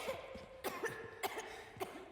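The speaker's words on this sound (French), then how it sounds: "d'où tu tousses, y'a pas de poussière" Coughing from a person who is sick, heard during a Resident Evil 4 gaming session: three or four separate harsh coughs at a steady pace, close and fairly quiet, with low game sound underneath.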